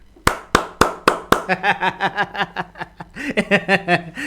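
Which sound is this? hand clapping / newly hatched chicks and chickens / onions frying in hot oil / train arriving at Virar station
hand clapping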